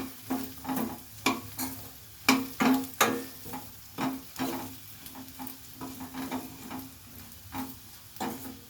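Chili powder frying in plenty of oil for a brinjal gojju, a close sizzle punctuated by repeated rhythmic scrapes and taps of a spoon stirring the pan, with no talking.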